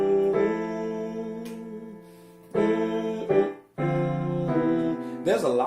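A slow keyboard chord progression in fourths shell voicings, with sustained chords changing every second or so and a quick run of notes near the end, clear and unaccompanied.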